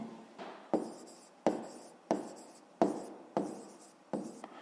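A pen scratches out an answer to a fifth-grade maths exercise in a steady run of short strokes, each starting with a sharp tap on paper, close and fairly quiet, with no talking.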